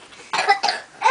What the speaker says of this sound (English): Oh, coughing.